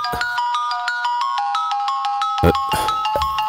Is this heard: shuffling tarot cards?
no